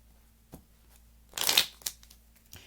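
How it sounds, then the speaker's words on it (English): A single quick riffle shuffle of a deck of cards, a brisk burst of fluttering snaps, followed by softer card taps in an otherwise quiet room. "Let me get a couple good shuffles in."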